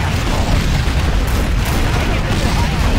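Chinese rocket launcher firing in the Command & Conquer Generals game: a loud, dense, continuous roar of booming launches and blasts that fills the whole clip.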